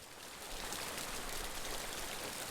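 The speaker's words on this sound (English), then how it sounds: "I like listening to the rain though" Steady rain pours in the Kynseed video game, a dense even hiss of falling drops that stays constant and fairly close throughout, with no voices.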